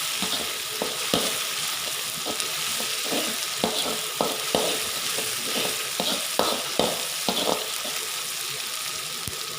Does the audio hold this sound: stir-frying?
yes